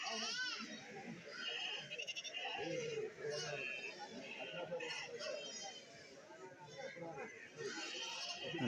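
Goats, including milking goats and kids, bleat repeatedly, fairly close, at a goat market while someone talks steadily over the herd throughout.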